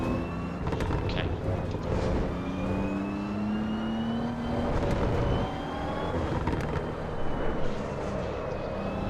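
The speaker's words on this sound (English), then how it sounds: "I'm struggling to try and drive a Fiat Abarth" A Fiat Abarth's engine drones and revs as it is driven in the Assetto Corsa EVO racing game, a continuous, shifting whine with rising and falling pitch that fills the whole stretch alongside a talking voice.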